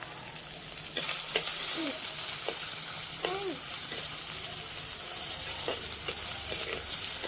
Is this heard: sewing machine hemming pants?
no